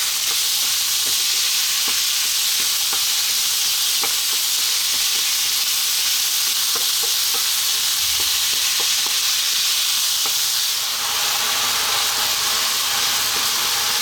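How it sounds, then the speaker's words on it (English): Ground beef stir-frying over high heat, a loud, constant hissing sizzle heard up close with light scraping and tapping as the meat is kept moving, easing slightly near the end. "And for about 4 to 5 minutes now, staying on this high heat, we need to cook this"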